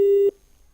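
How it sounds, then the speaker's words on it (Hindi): Telephone busy tone after a call drops: a single clean, steady beep lasting about a third of a second, then cutting off into near silence. "फोन कट गया है लगता है।"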